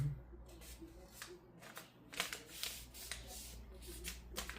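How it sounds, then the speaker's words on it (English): A square sheet of origami paper being folded and creased, giving soft crinkles and a few sharper papery rustles close by, with quiet background noise and a possible faint voice. "I have a square sheet of origami. What's gonna happen here is I'm gonna fold in"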